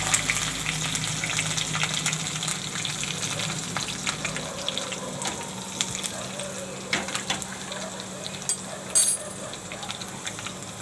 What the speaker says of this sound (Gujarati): તો આપણે હવે એમાં રાઈ નાખી દેવું થોડી. અને મરચાં અને મીઠો લીમડો આપણે આમાં નાખી દેવું.